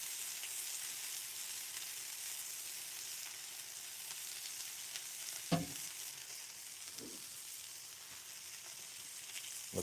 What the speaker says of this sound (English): Let's give it another flip here. Starting to see some nice sear on there.